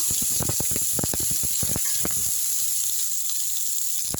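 Ridge gourd peel sautéing in hot oil in a pan, a steady close sizzle and hiss with scattered crackles and stirring clatter early on, the frying continuing alone and unbroken.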